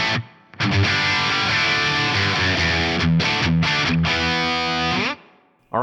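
Electric guitar with a distorted tone and reverb, set up for a flanger trick, plays sustained chords and notes with brief gaps, then rings out into a short tail.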